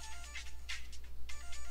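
A mobile phone ringtone plays in a visual novel game scene, a repeating bright electronic melody in rhythmic pulses, moderately loud over a low steady hum, with no talking.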